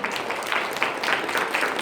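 Audience at a women's league general membership meeting giving a round of applause, a brief, continuous patter of many hands clapping at close to middle distance.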